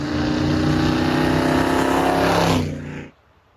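A Ford 5.4 liter Triton V8 engine runs steadily at close range with a dense, continuous rumble and no voices, then cuts off abruptly near the end, leaving near silence.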